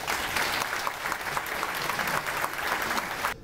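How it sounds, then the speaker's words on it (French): Dense, even applause from an audience fills a newly inaugurated sports hall, steady and continuous for several seconds before cutting off abruptly. "je vous demande des applaudissements"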